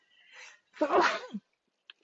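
A single close, sharp sneeze with a short breathy wind-up, followed by a tiny click and then quiet.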